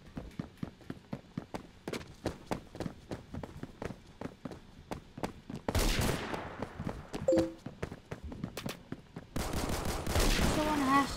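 Gunfire in the video game Phantom Forces: a long run of rapid, evenly spaced shots, then denser sustained bursts of automatic fire, loud and close, with brief talk mixed in.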